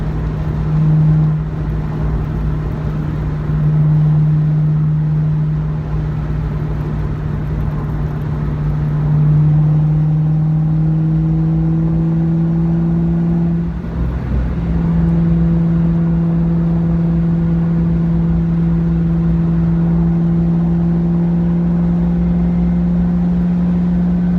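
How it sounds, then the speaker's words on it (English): A 2001 Mustang GT's Flowmaster Super 10 exhaust drones steadily at cruising speed, a deep continuous rumble with a brief dip partway through, no voices over it. "You can hear that Flowmaster Super 10 reverberating in the background."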